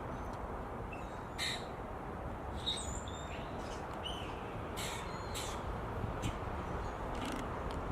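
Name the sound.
birds calling outdoors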